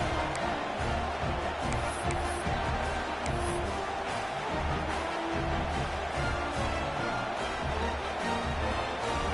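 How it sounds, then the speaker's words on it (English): A football stadium crowd roars continuously and loudly during a Virginia Tech versus Florida game, a dense wall of cheering that rises and falls slightly without pause. "the crowd roaring, trying to make it difficult"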